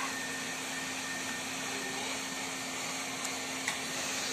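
The vacuum suction unit of a RIECAT ALFA DTF printer runs as a steady, even drone with a faint tonal hum, unchanging throughout with no voices.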